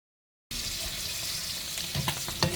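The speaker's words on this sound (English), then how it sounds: "Frying, lightly frying in oil." Potatoes and shrimp fry lightly in oil while South Indian style samosas are made, a steady, close sizzle starting abruptly after a brief silence, with a few stirring clicks near the end.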